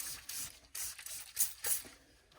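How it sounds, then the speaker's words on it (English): Alcohol cleaner sprayed from a trigger bottle, several quick hissing bursts close up, separated by short pauses in a quiet room. "I'm just going to spray it down"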